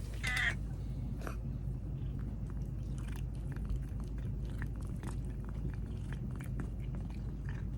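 A cat chews a piece of cheese with quick, wet biting and mastication sounds close by, along with a brief meow near the start and scattered clicks over a low steady background.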